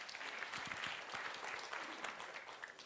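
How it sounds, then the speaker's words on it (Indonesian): A church congregation applauds loudly during a sermon, with steady dense clapping from many hands sustained for the whole stretch, heard at a moderate distance. "Bangkit berdiri, tepuk tangan yang keras buat Tuhan"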